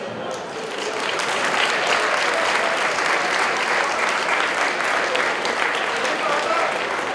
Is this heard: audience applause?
yes